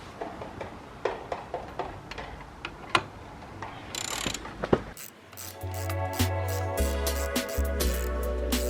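On a Citroën Xsara, a ratchet tightens a front brake caliper bolt with quick, close clicking strokes that come in bursts. Later a steady low hum and louder mechanical rattling join the clicks.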